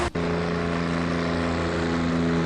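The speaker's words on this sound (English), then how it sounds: "The Chamberlain's over it, it's struggling now, wheel spin" A Chamberlain vintage tractor labours at a vintage tractor pull, its engine droning steadily with a strong low hum under strain as the wheels spin, loud and continuous without a break.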